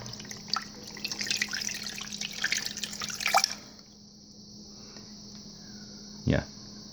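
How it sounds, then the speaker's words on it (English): Water is poured into a Ninja Foodi pot over an 8-pound pork shoulder, a close, splashing stream for a few seconds that stops abruptly, with a steady hum underneath and a brief knock afterward. "I'm going to be adding 3 cups of water."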